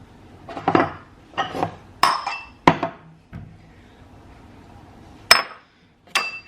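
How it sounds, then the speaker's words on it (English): Bowls and dishes being grabbed in a kitchen, with a series of loud, close clinks and clatters of crockery separated by short pauses. "Now we grab a bowl."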